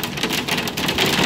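Heavy monsoon hail storm in Prescott, Arizona in July: dense, steady roar of heavy rain with hailstones pattering and clattering on surfaces, loud and continuous with no talking.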